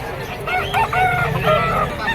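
A hiraw stag rooster crows at a market, one loud, close, drawn-out cock-a-doodle-doo filling the moment over a low murmur of background noise.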